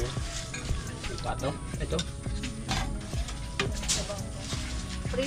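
Food sizzles and crackles steadily in a pan, with utensils clinking and scraping and people talking nearby.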